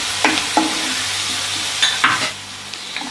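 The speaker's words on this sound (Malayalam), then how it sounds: "ഇതെല്ലാം കൂടി നന്നായി മിക്സ് ചെയ്യുക." Chili powder and soy sauce being stirred in a pan over low flame for pineapple chicken: a few sharp scraping spatula strokes over a steady loud sizzle, close up, no voices.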